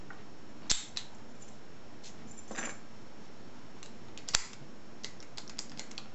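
A PAPAIZ CR60 padlock is unlocked and opened with its keys, giving a couple of sharp metallic clicks and snaps over faint small rattles in a quiet room.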